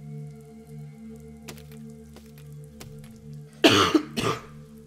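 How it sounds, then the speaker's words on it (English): A person coughs twice, loud and close, breaking through a steady low hum of game sound and faint clicks. "I'm coughing a lot."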